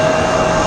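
A Delta Boeing 737-900 jet engine at Raleigh Durham airport in windy weather, a loud, steady roar with a sustained whine, heard alone for a brief moment.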